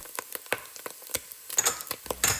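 Spices, cumin, smoked paprika, chipotle chili powder and oregano, are stirred into a sizzling keto chili pot, a soft steady fry with sharp scraping taps of the spoon, close and fairly quiet.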